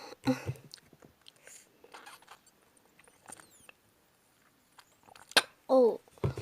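Drink sucked through a straw, a few short wet slurps and gurgles near the end, close and fairly loud after quieter rustling and faint handling noise.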